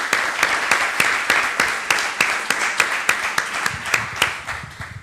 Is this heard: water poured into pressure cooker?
no